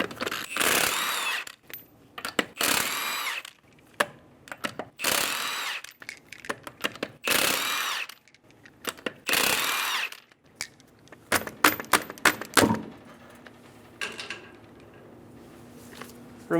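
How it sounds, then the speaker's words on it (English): Bursts of a power impact tool on the lug nuts of a 2011-2014 Hyundai Sonata with a 21mm socket, five loud whirring runs in close succession, then rattling as the nuts come loose and a quieter tail. "remove the 5 lug nuts."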